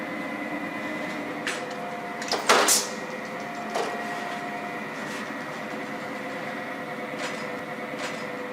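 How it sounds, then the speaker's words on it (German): A pre-marking machine at a shoe factory hums steadily while drawing guide lines on leather shoe side panels, with occasional clicks and a brief louder mechanical clatter over the constant drone. "Das ist eine sogenannte Vorzeichenmaschine."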